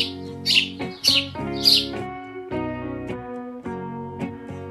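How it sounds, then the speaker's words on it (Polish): Sparrow chirps, several bright short calls in quick bursts near the start, set over steady background music. "Wróbel."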